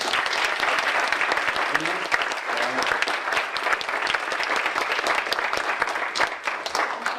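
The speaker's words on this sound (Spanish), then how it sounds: "un aplauso fuerte para ellas dos" Strong, steady audience applause after a strategy talk by Roberto Artavia, a dense continuous patter of many hands clapping at even loudness throughout.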